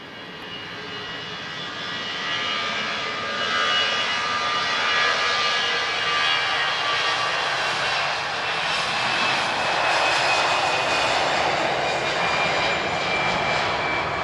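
An airplane arrives at Lisbon Airport, its engine roar building from a distance into a loud, sustained rushing drone that fills the scene with no one talking.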